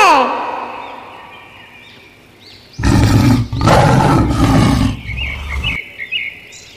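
A loud, close tiger roar sound effect, two long rough growling bursts that fill the middle of the clip, followed by faint chirping after a quieter lead-in.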